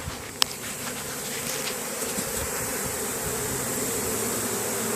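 A honeybee swarm drones steadily at a hive entrance in an equestrian setting, the bees fanning with tails raised, a dense close-up buzz that holds evenly throughout, with one brief click near the start.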